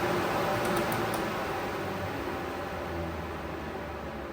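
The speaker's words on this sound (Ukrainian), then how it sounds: "Величезний плюс трансформаторного регулятора швидкості в тому, що відсутній електричний гул і наш вентилятор працює максимально тихо." A Vents OV 4E 400 axial fan running at full speed on a transformer speed regulator gives off a steady, even broadband whoosh of moving air, fairly quiet and unchanging throughout.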